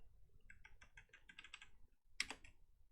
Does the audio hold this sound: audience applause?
no